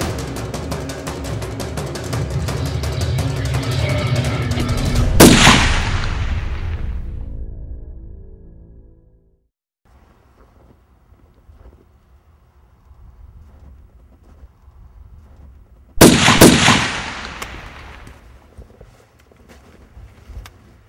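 Two sharp, loud gunshots in a bounty hunter film scene, several seconds apart, each with a long echoing decay, the first cutting through busy background sound and the second ringing out in near silence.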